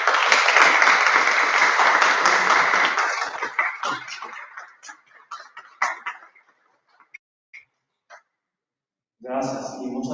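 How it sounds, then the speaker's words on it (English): An audience at a conference on dual education applauds to welcome a speaker, with loud, dense clapping that thins into scattered claps and dies out before a voice begins. "Please welcome Mr. Gernot and give him an applause."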